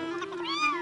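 A cat gives a single close, drawn-out meow in a storybook reading, with a rising and falling pitch, alone and without any talking.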